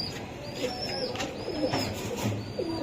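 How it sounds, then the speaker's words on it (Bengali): A red-necked pigeon at a breeding loft gives soft, low cooing phrases, repeated a few times, over a steady background of other birds' calls and faint chirps; no one speaks. "এটা হলো রেড নেক একটা কবুতর"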